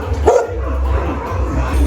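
A dog barks a couple of times at an art cafe, close and short, over steady music and background chatter.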